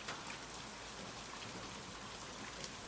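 Rain falls steadily on surfaces in a night valley among banana leaves, making a soft, even hiss of many drops that stays constant and fairly quiet throughout, with no voices.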